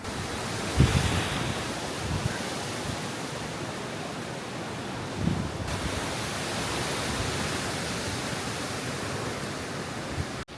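Strong storm wind sweeps across an off-grid island in Portugal, a loud, steady broadband roar that swells in gusts near the start and again about halfway through, with no voices.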